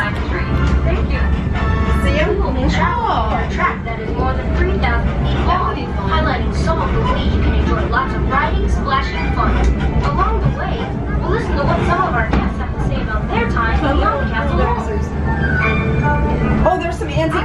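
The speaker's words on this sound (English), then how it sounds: "welcome aboard the Dutch Wonderland Monorail" Riding the Dutch Wonderland amusement park monorail: a steady low rumble of the train car runs throughout, with nearby chatter and voices of passengers talking over it.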